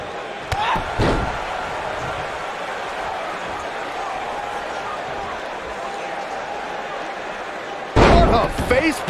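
A facebuster in a women's wrestling match drives an opponent's face into the mat, landing as a loud booming slam near the end, with an earlier thud and steady crowd noise in between.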